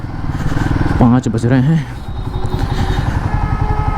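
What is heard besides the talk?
Guerilla 450 motorcycle on a test ride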